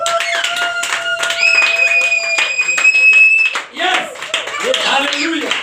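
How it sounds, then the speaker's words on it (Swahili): Church congregation clapping in steady rhythm with high, sustained ululation trills ringing over the crowd, then a brief dip before the clapping and cheering swell again. "Mpe Baba vigelegele sasa."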